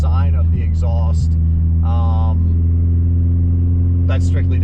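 A car fitted with an Invidia titanium exhaust produces a steady, loud, low engine drone throughout, with a person talking over it.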